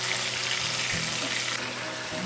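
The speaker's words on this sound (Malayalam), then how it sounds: "എന്നിട്ട് നമുക്കിതൊന്ന് ഫ്രൈ ചെയ്തെടുക്കാം." Marinated fish fries in hot oil with a steady, loud, close sizzle that holds constant from start to finish, with no voices.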